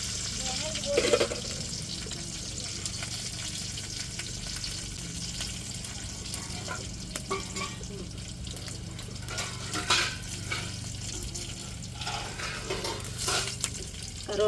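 Onions fry in hot tempering oil for rasam with a steady, soft sizzle. Occasional stirring scrapes and light utensil clinks sound close by.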